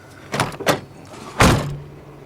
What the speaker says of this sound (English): I've opened and slammed every door shut